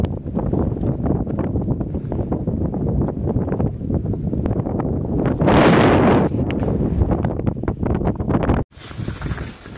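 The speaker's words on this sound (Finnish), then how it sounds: "Niin pikkusen tuulee ja tuiskuu" Wind buffets the microphone during a snowy polar-night hike in Urho Kekkonen National Park, a loud, steady rushing roar that swells midway before cutting off abruptly near the end.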